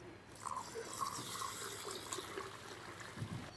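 Water runs steadily into a vessel for grinding palmyra sprout with raw rice, a soft continuous trickle and splash lasting a few seconds with no talking.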